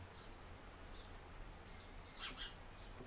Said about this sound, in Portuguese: Temos até um passarinho lá